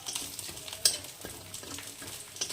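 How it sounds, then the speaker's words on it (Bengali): Lentil bori fry in oil in a kadai over a low flame, a soft close sizzle with a few light scraping and clinking stirs. "গ্যাসের আঁচটা কমিয়ে দিয়ে বড়িটাকে একটু লাল লাল করে ভেজে নিতে হবে"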